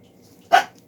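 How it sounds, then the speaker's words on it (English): An old dog lets out a single sharp bark, loud and close, over faint low background noise. "the dog would not shut up"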